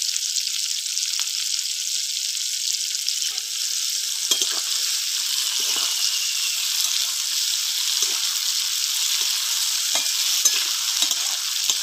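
Prawns frying in oil with garlic, torn green chilli and chopped coriander for tel chingri, a loud, continuous close sizzle with faint stirring clicks, steady throughout.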